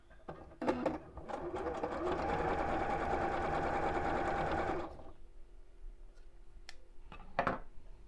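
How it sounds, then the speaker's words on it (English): A sewing machine runs a narrow zigzag stitch around the edge of fabric for a bunny ear headband, a steady whirring hum lasting about four seconds, with a few handling clicks before and after. "I'm going to do a really small zigzag stitch just around the edge"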